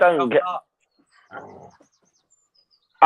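A dog barks in a couple of short bursts close by, with quiet gaps between them and no other sounds.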